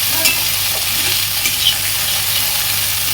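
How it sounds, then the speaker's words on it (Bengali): Okra fries in hot oil with nigella seeds, a loud, dense, steady sizzle with small spatters and occasional stirring scrapes throughout. "এইবারে ঢ্যাঁড়সটা ভাজবো, ভেজে ঢ্যাঁড়সটা তুলে রাখবো"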